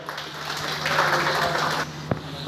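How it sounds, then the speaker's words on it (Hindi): At a DJ association meeting in Muzaffarnagar about the kanwar yatra, a crowd claps to welcome a speaker; the clapping is moderate and swells in the middle before thinning out, with a low hum underneath. "एक बार जोरदार तालियों से स्वागत करें भैया का"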